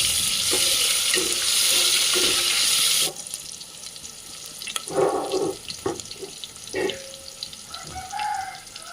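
Cumin seeds sizzle in hot oil in a home kitchen over a gas flame: a loud, steady hiss for about three seconds, then a quieter crackle broken by clinks and stirring sounds.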